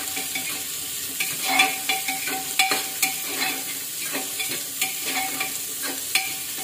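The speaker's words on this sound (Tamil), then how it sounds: "இப்போ பன்னீர், இதெல்லாம் போட்டு ஒரு 2 நிமிஷம் வதக்கணும்" Paneer sautéed and stirred in a pan for Phulkari pulao, with a steady soft sizzle and repeated scraping, clinking stir strokes at close range and no talk.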